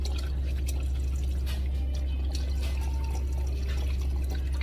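Broth is poured back into a pot of homemade chicken noodle soup, giving soft, uneven splashing and trickling over a steady low kitchen hum, with no one talking.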